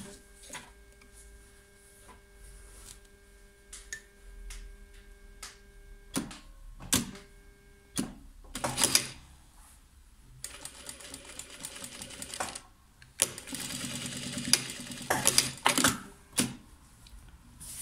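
Sewing machine stitching a flap pocket with corners turned in, close and fairly quiet, in several bursts of rapid mechanical stitching separated by pauses and clicks, the longest runs in the second half.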